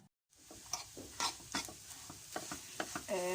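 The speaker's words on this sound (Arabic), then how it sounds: "حمرهم في اي مادة دهنية، زيت او سمنة" Dough for sahlab-filled kunafa fries in oil or ghee with a soft steady sizzle while being stirred, scraping and tapping in quick irregular strokes close by.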